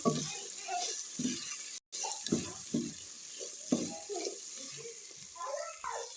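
Spoon stirring red chilli, cumin powder, tikka masala and salt into macaroni in a pan. Irregular soft scraping and wet mixing sounds come close up, with a brief gap partway through.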